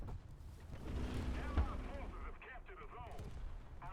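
A tank shell strikes and bursts through armor in World of Tanks, a single heavy muffled impact with a rumbling low-end thud and trailing crackle.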